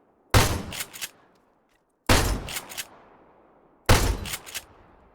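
Shotgun blasts in the video game Arma 3, an M45E with extended barrel, sound as three loud, sharp shots spaced about two seconds apart, each followed by quick mechanical clacks from reloading or pumping.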